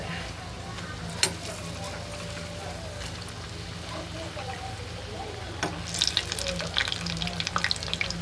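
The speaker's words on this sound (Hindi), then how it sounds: "इधर हम इसमें पकौड़े फ्राई कर रहे हैं।" Pakoras deep-fry in hot oil beside a simmering tomato-puree masala for kaddu kofta, a continuous low sizzle and bubble with a few clinks and stirring noises toward the end.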